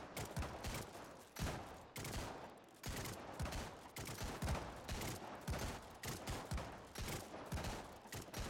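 Gunfire in the Ascent of Ashes game, a continuous faint run of rapid shots with steady rhythmic bursts throughout, without voices over it.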